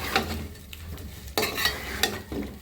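Boiled olives go into a pan of spices, garlic paste and vinegar frying in mustard oil, giving a close sizzle broken by sharp spoon clatters and stirring scrapes, with no speech.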